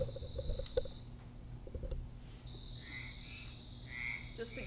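Recorded frog croaks and cricket chirps play through speakers in an interactive audio installation, a steady insect trill under rhythmic bursts of croaking, with higher chirping calls drifting in later, moderately loud and continuous.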